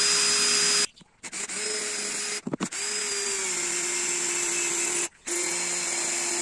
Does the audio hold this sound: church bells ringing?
no